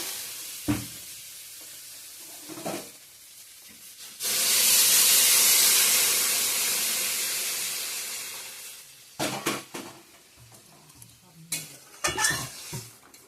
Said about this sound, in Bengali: ভালো করে কষিয়ে নিই তো মশলার সঙ্গে ভালো করে ভাজা ভাজা হয়ে গেছে